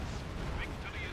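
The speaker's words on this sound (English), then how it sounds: "it's making much better use of those Stuka barrages now" Stuka rocket barrage in a Company of Heroes match, a dense continuous rumble of artillery explosions rolling under the fighting.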